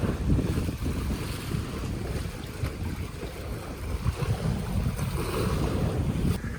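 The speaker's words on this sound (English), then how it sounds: "It's gonna be really windy over here" Steady wind gusts buffet the microphone beside open water at a waterfront estate lined with palm trees, with waves and water noise rumbling underneath, continuous and fairly loud throughout with no talking.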